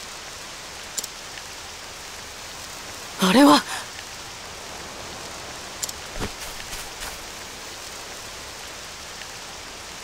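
Rain falling in the video game Octopath Traveler 2, a faint steady hiss throughout, interrupted by a brief louder burst and a short spoken phrase.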